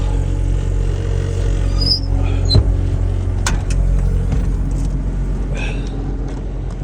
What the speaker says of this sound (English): we're stalling the motor